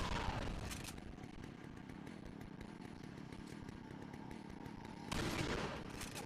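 Chainsaw from the Resident Evil 4 video game revving hard at the start, settling into a sustained loud rasping drone, then surging again near the end, close and alone without talk.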